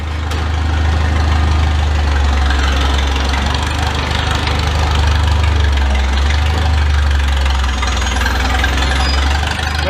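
A 1977 vehicle's engine runs at a steady, loud idle with a deep low rumble and a faint knocking pulse, close by and alone.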